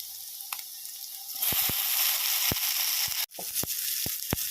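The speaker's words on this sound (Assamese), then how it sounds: "এতিয়া অলপ পিঁয়াজ দি দিলোঁ, ভাজিলোঁ" Steady hiss of onions frying in a hot pan, with a few sharp crackles and stirring clicks scattered through, close and fairly loud.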